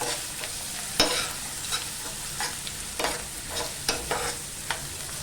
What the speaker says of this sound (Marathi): ओली मिरची पण टाकूया आणि दोन मिनटं एवढं ना परतून घेऊया